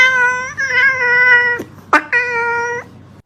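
A cat meows twice, loud and close: a long drawn-out mew, a sharp catch, then a second sustained meow, with no other sound.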